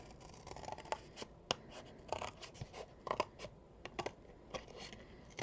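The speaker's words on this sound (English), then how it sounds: "I'm just going to trim this up with my scissors" Scissors snip steadily through paper in a quiet room, a run of short, sharp, close cuts with small pauses between them.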